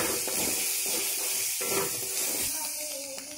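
Banana stem frying in a hot pan, a steady moderate sizzling hiss with small crackles and spits, fading slightly toward the end.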